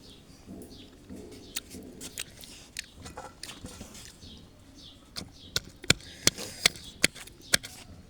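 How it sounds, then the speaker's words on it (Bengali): Someone eats crushed homemade guava from a backyard tree. Soft biting and chewing fill the first seconds, then a run of sharp, evenly spaced crunchy clicks comes near and loud toward the end. "আমাদের কাছে পেয়ারা ধরলে আমরা এভাবে ছেঁচে খাই"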